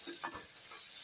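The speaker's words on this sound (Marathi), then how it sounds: "मी आज उसळ कुकर मध्ये नाही लावणार आहे, कढईतच फ्राय करणार आहे" Sprouts fry with turmeric in oil in a wok over low heat for misal usal, a faint, soft sizzle with a couple of quiet stirring scrapes.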